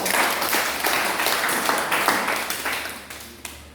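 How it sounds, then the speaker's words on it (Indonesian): Applause in a high school classroom as students clap after a group presentation on vehicle parts, a dense, steady patter of many hands that carries on for several seconds before thinning out toward the end. "tepuk tangan."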